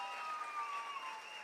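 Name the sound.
audience applause for the music band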